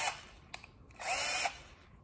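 A Milwaukee M12 cordless drill, a customer return, whirs briefly and then runs for about half a second at close range. It is fairly quiet, with short clicks before it.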